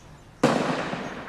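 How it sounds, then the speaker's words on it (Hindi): A single gunshot rings out at a firing range: one sudden, loud, sharp blast that decays over about a second with no talking. "ये फायरिंग रेंज है 200 तक बंदूक"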